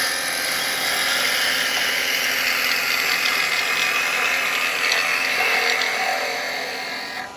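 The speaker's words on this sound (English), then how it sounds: "So we can come in with our spindle gouge here, get ourselves a little lip, come in." A spindle gouge cutting wood on a spinning lathe gives a loud, steady, broadband hiss and whir that holds evenly for several seconds before easing off slightly at the end.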